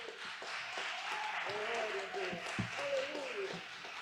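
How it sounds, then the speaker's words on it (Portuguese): A church congregation applauds together in a steady, dense wash of clapping, while a voice speaks and exclaims over it throughout. "Mas se você recebeu mesmo, aplauda mais forte"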